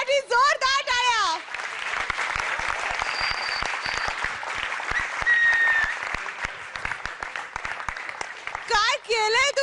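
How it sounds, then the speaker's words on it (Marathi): A theatre audience breaks into loud, sustained applause after a comedy performance, dense clapping filling several seconds between stretches of speech at the start and end. "या जबरदस्त परफॉर्मन्स साठी जोरदार टाळ्या"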